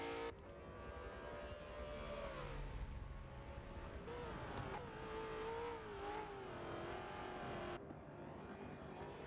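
A Supercar race car at Sandown rounding the final corners onto its last lap, its engine a continuous high whining note rising and falling with shifts and revs, fairly distant under a broadcast crowd and track ambience.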